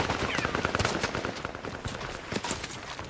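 Rapid automatic gunfire in the Project Reality mod on the Kokan map, with loud, dense overlapping bursts of shots rattling continuously from near range.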